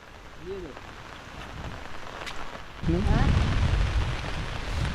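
Rain falls steadily over rice paddies in the Konkan countryside, with a louder downpour surging in halfway through, while voices speak in the background.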